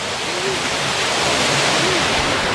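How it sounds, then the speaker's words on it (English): An upper waterfall in a deep rocky area roars as a steady, dense broadband rush of falling water, close and continuous with no pauses. "And we found the upper falls."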